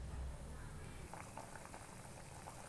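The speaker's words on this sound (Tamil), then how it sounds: "புளி ஊற்றி ஒரு நாலு கொதி அழகாக கொதிக்குது பாருங்கள்" Mango sambar with tamarind boiling in a covered pot, a faint, steady bubbling simmer with small pops close by, and no speech.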